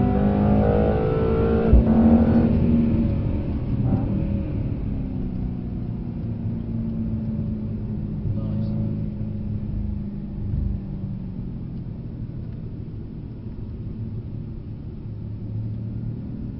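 A Mercedes C63 AMG driven fast on the Brooklands track, its engine note revving up then settling into a steady, loud interior drone and rumble with shifting pitch as the car accelerates.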